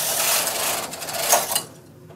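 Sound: knitting machine carriage knitting across a row

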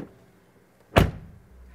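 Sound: Mercedes EQE SUV door closing

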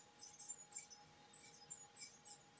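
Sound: gerbil squeaking on its exercise wheel

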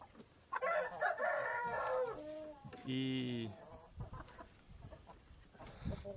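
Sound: rooster crowing

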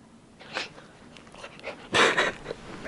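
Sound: wiener dog whimpering

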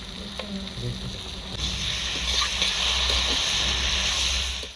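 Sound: spices and red chili powder frying in pan for fish curry

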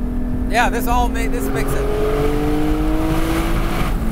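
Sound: Porsche Spyder 4.5L engine revving while driving in canyons

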